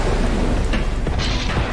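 Thunder from a lightning strike in an underwater sea-monster hunting video game rolls loudly with rain-like hiss. A continuous dense rumble fills the whole moment.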